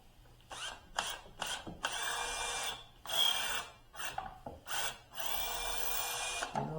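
A power drill whirs into wood in short repeated bursts and a few longer runs, stopping and starting, close and fairly loud, while modifying a foot rest.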